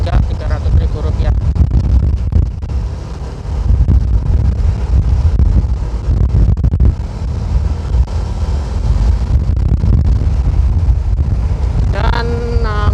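Strong wind roars and buffets the microphone during a fast drive along a road in Indonesia, a loud continuous rush with gusty surges and brief dips; a short tonal sound like a horn or voice rises near the end.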